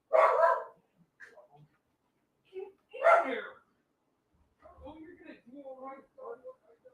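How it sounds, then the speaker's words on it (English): A dog barks indoors, giving two sharp, loud barks a few seconds apart, and a person talks briefly between and after them. "Apparently, he's barking at nothing."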